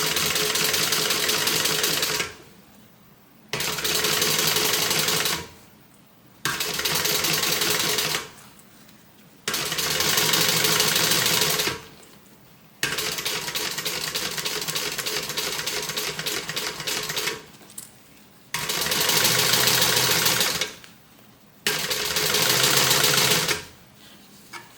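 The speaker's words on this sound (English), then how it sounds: "I'm going to start stitching it down here." A Simply Classic sewing machine stitches a seam in bursts of steady, rapid needle chatter separated by short pauses, loud and close with no talking.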